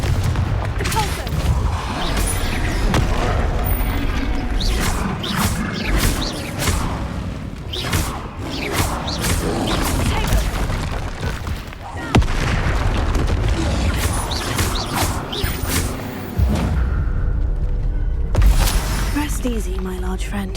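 Spell blasts from Confringo and Repulso in a magic video game, a dense run of booming bursts and whooshes layered with loud game music and effects for about twenty seconds.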